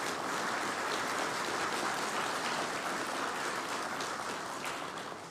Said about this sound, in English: I ask that you all give him and his team a round of applause for today